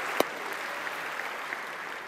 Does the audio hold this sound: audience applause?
yes